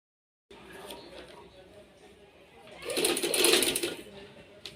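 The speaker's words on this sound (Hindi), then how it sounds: "तो चलिए आइए आपको सिलाई करके दिखाती हूँ कि ये कैसे होंगे" A sewing machine stitches fabric strips onto a trouser in a cross-plate pattern, a quiet whirring run that rises into a louder, faster burst of rapid stitching before slowing, with a voice present nearby.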